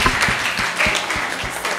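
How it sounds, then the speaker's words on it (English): A church healing service audience claps for Jesus in a short burst of rhythmic applause, a few distinct hand claps repeating at a steady beat, moderately loud in a reverberant room. "Clap hand for Jesus"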